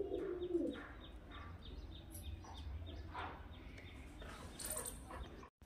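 Pigeons, including a young squab, coo softly and intermittently at a distance, with low murmuring calls and a few faint chirps over a quiet background.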